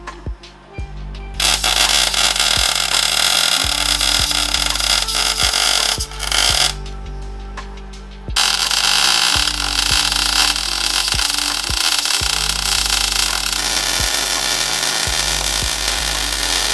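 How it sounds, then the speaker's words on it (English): Welding on a steel winch bumper makes a loud, dense buzzing crackle with faint rhythmic pulses, broken by short pauses between beads. "we're gonna crack out the bit of welding"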